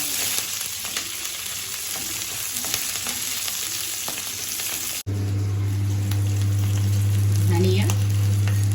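Peanut oil crackles and sizzles steadily in a pan while chutney is being made, a broad, continuous frying hiss. Partway through, a loud low hum comes in and runs under the sizzle until the end.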